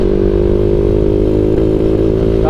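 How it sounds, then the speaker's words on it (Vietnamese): Engine of a Yamaha Exciter motorcycle fitted with its stock exhaust, running rich and idling loud and close with a steady low rumble, slightly uneven with a brief rev at the end; no talking. "Nè cho anh em nghe cái khoảng dư xăng nè."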